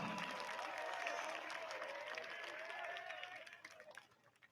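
A crowd at a high school graduation practice applauding steadily, fairly loud and close, with voices underneath, gradually thinning out toward the end.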